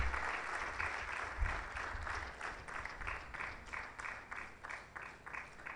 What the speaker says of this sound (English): Please, can we clap properly for the Honorable Minister?